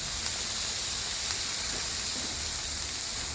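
Steady, even hiss of vegetables steaming on a hot Blackstone griddle after water is added, a continuous sizzling spray with no distinct breaks and no talking.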